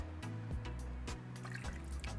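Tapioca pearls stirred through two cups of cold water, giving a steady, close wet swishing and sloshing with small trickling splashes, continuous and unaccompanied by talk.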